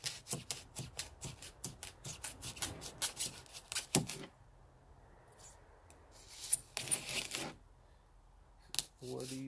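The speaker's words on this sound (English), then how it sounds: "So I'm just going to cut out this box freehand." While shed walls are being insulated, a box opening for a light switch is cut freehand, giving a series of sharp, rhythmic cutting strokes, a pause, then more scraping cuts close by.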